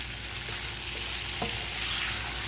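Shrimp sizzle in garlic, butter and salt in a pan while being stirred continuously, a loud steady frying hiss up close with a few soft utensil taps, no talking.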